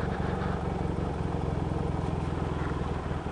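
A Yamaha XS motorcycle engine, warmed up and running, gives a steady, close, loud idle with an even, throbbing pulse that holds for the whole stretch with no voices over it.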